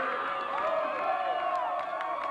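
A crowd at a Mount Carmel high school baseball game cheers and shouts together in a sustained, fairly loud swell of voices, with a few claps and whoops throughout.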